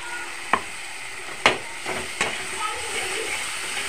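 Ginger paste, chili paste, crushed garlic and turmeric powder are sautéed in a pan for chicken kosha with chicken leg pieces: a low, steady sizzle broken by three or four sharp spatula scrapes and clacks as the spices are stirred.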